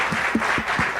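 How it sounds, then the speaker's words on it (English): Audience applause closes a book talk, a short burst of a few distinct claps sounding near and moderately loud against a soft crowd wash. "But I'd just like to make sure that we can give them both a round of applause."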